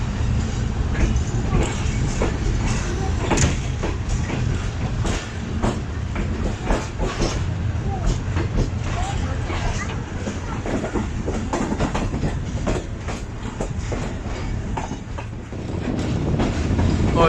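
The Fareed Express runs along rails in the rain, with a steady rumble and repeated clickety-clack of wheels over joints, close and sustained throughout.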